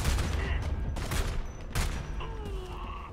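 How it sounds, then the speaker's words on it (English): Bursts of battle rifle fire in the shooter game Homefront: The Revolution, a rifle much like an M1 Garand, crack out in heavy clusters over a constant rumbling ambience, with quieter background sounds between the volleys. "There's that rifle in action"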